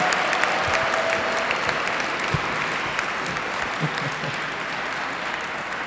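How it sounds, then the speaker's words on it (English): A room full of people applauds during an acceptance speech at an IMSA alumni award ceremony, a thick, even wash of clapping that stays loud and steady throughout with no voices over it. "I wasn't expecting applause for that"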